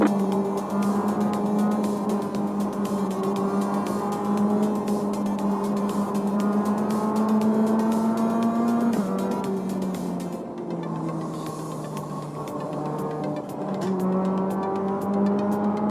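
Race car engines drone steadily in the iRacing video game, a loud, continuous whine that dips and rises as the cars brake and power through a corner, with no talking.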